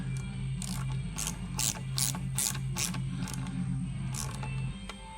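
A ratchet tightens a fitting while installing a Navitas 600 amp controller and solenoid on a 2013 Yamaha G29 Drive golf cart, making rapid close clicking bursts over a steady low electrical hum, without speech.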